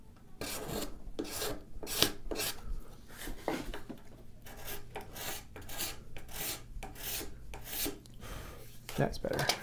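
A card scraper makes repeated short, crisp rasping strokes across the wood of a handmade grooving plane cut from firewood, close and steady in rhythm, with faint background noise between strokes.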